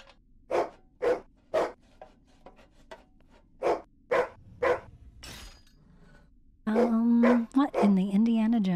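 Barks from a dog in the escape room horror game Psycho Fear, several sharp, evenly spaced calls standing out clearly before a voice starts talking over the end.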